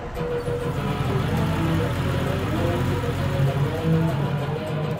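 A Vespa scooter engine running continuously on a Swedish winter ride, a steady mid-pitched motor drone with a low buzzing rumble, close and fairly loud, with no talking.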